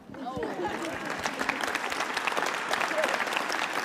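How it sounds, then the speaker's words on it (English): An audience at an international conference on Ukraine's recovery in Berlin breaks into sustained applause, a dense, even patter of many hands clapping for several seconds with a voice audible at the start. "I'd like you really to join me in a round of applause"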